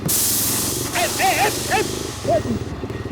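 A motorbike tyre bursts into a loud rush of escaping air right at the start, then keeps up a steady, close hiss while someone talks over it in short phrases.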